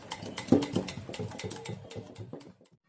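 Apple bajji batter is stirred with milk in a bowl, giving quick clinking and tapping strokes of a utensil against the bowl that fade out near the end.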